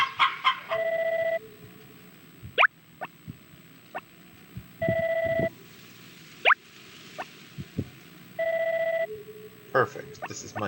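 Chickens in the Harvest Moon video game give short clucks and chirps mixed with repeating electronic beeping tones and soft plopping sounds, quiet and spaced across the clip.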